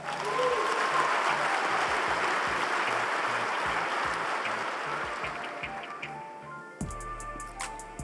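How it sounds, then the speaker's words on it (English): Audience at a high school sports awards ceremony applauding an absent baseball player of the year, a thick roar of clapping that gradually thins and fades, ending with a few scattered claps and a brief thump. "let's give him another round of applause"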